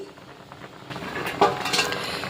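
A metal lid is set onto a cooking pot of Bengali chili curry with fritters, giving a single clink of metal on metal, a soft clatter of cookware among light kitchen noise.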